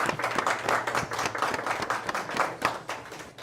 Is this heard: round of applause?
yes